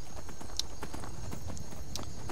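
A horse's hooves clip-clop at a steady gait in the video game Skyrim, a continuous rhythmic beat of footfalls over ambient game sound with no talk.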